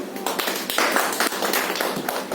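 A crowd at a company gathering breaking into loud clapping, a dense, steady burst of many hands close by, lasting a couple of seconds.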